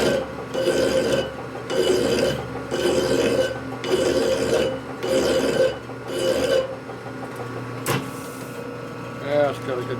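A hand file rasps a chamfer onto a metal part during repair of an S&S 113ci Evo motor's belt-drive transmission, in six even, close strokes with short pauses between them, then a sharp tap near the end.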